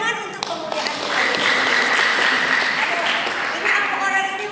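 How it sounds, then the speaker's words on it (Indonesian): Applause at a large family Christmas celebration in Manado, a dense burst of clapping from many people with cheering voices over it, steady for several seconds. "Tepuk tangan untuk kemuliaan Tuhan."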